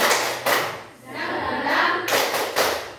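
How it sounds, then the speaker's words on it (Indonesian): A group claps hands in short bursts with a pause between, the claps loud and close in a room. "Tepuk semangat."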